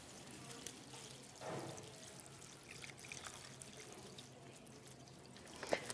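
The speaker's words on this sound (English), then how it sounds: "And then I'm going to put in a bunch of water." Water is poured into a lemon drink mixture in a home kitchen, a soft splashing and trickling stream with a few drips, fairly close and quiet, with no talking over it.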